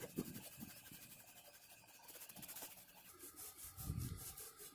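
A cloth wiping lacquer thinner over white spots on an old wooden gun rack makes faint, close rubbing strokes that repeat in an uneven rhythm.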